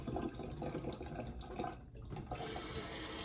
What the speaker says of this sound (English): And I wash everything again, just to make sure I don't drop loose particles into the slurry.